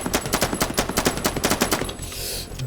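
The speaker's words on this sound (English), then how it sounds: "if I were to tick on infinite ammo here, and I were just to keep shooting for a little bit, I'm going to have to burn through this magazine here" Rapid automatic fire from a big gun in Madness: Project Nexus, a quick rhythmic burst of about twenty loud shots over two seconds, then a short fading tail with no talk.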